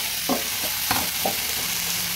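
Fried potatoes and long beans are tipped into a pan of spiced tomatoes and green chilies, setting off a steady sizzle with a few scraping stirs and clatters up close.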